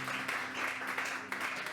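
A church congregation applauding in worship, a steady, moderately quiet wash of many hands clapping together, with a faint sustained tone underneath.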